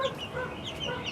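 Hens and chicks cluck and peep close by in a short burst, with overlapping soft calls in quick succession.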